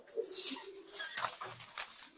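A pigeon gives a soft, low coo, faint and brief, mixed with some high chirps from other birds nearby.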